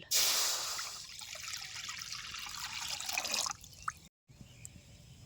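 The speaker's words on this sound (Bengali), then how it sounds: "কড়াইতে এখন দিয়ে দেবো পরিমাণ মতো জল" Water is poured into a wok sitting on a clay stove, a steady splashing gush for about three and a half seconds that stops abruptly, followed by a few faint drips.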